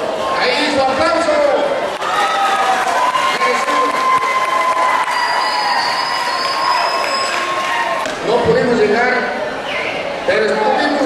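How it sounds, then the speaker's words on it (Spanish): Applause and crowd noise at a football tournament award ceremony, a steady wash of clapping and cheering sustained throughout, with voices mixed in. "Ahí su aplauso."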